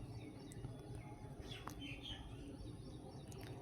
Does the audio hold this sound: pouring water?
no